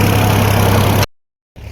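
A Solis 4515 tractor engine runs loud and close with a steady idling drone for about a second, then cuts to silence before a fainter engine hum returns.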